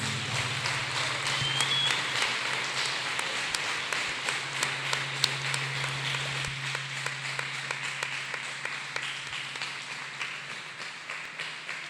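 A church congregation claps along together, a dense, steady patter of many hands that continues through the whole stretch with a low hum underneath and no speech.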